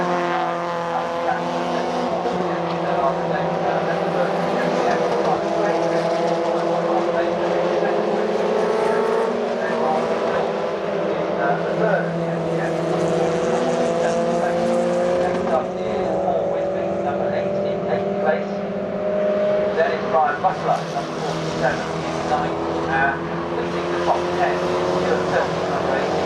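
MG race cars from the MG Owners Club championship roar around Oulton Park circuit near Island bend, several engines droning and shifting pitch continuously as they pass, loud and steady throughout, with a commentator talking over the racing.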